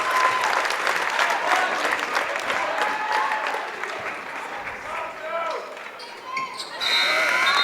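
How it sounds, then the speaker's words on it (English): Home crowd at a high school boys basketball quarterfinal, Hazen versus White River, rising into a standing ovation: sustained loud applause and cheering fill the gym, with an announcer talking over it and sneakers and whistles faintly beneath. "Their crowd giving them a standing O."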